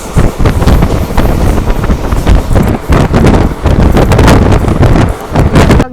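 An ICF train coach running at high speed, heard from inside or at an open door as a loud, continuous rushing roar with rhythmic rattling and clattering and heavy wind buffeting.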